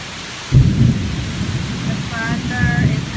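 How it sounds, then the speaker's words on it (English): Thunder rumbles loud and close through a heavy, hot and humid summer rainstorm in Alabama, a sudden low crash swelling into sustained rolling rumble over steady pouring rain. "The thunder is out of control, the lightning."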